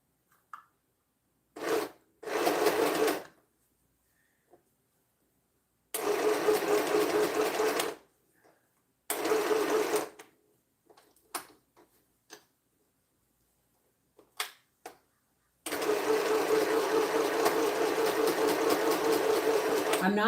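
A sewing machine stitches pieced quilt fabric in several separate bursts of rapid mechanical chatter. Each burst lasts a second or two, with quiet pauses between them, and a longer steady run of stitching comes at the end.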